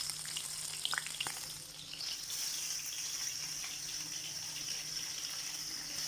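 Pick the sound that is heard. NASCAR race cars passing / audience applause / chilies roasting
chilies roasting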